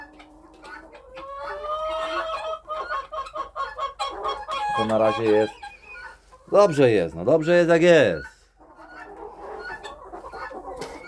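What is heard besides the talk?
chickens clucking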